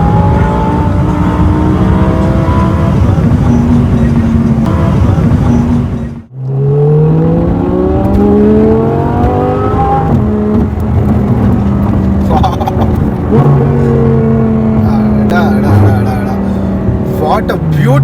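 An Audi R8 with a V10 engine and a loud custom exhaust roars close and hard under acceleration, its pitch climbing steadily. A brief gap marks a gear change, then it pulls and rises again through the gears without letup.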